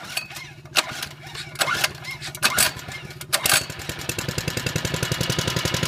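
A small engine on a DB30 machine starting up after a few tugs, then settling into a steady, rapid chugging run, close and fairly loud, with no talking over it.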